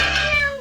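A single loud, close cat meow, drawn out for under a second and slightly falling at the end, with no voices over it.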